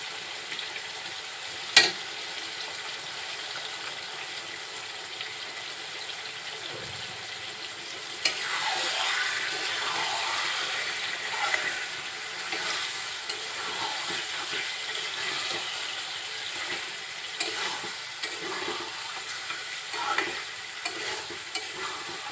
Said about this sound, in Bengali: মশলার সাথে মাংসটা খুব সুন্দরভাবে কষিয়ে নিব। সব মশলার সাথে মাংসটা নাড়াচাড়া করব।